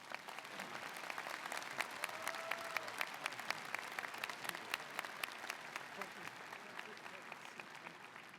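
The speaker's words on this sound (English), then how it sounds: "Let's give him another round of applause." Steady, dense applause from a large audience fills a graduation commencement ceremony at Ohio University, sustained clapping at moderate distance with no breaks.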